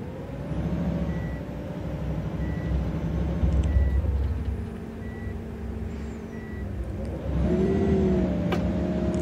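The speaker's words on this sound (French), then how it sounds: "je sais combien la porte est bruyante" An Irisbus intercity coach in OMSI 2 runs with a low engine drone and a steady reversing-style beep, its noisy door mechanism whirring and hissing in short bursts near the start and again near the end.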